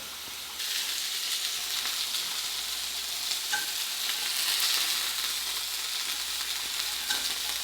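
Duck breasts sizzle steadily in a pan over medium heat, a continuous close, even frying hiss with faint pops and a soft scrape or two, starting abruptly just after the opening half second and running without talk.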